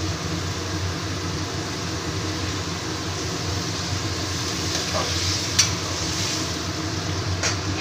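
Water poured into a hot pan of masala-coated potatoes sets off a steady, even sizzle and bubbling hiss, close and continuous, with a couple of faint clicks of a utensil.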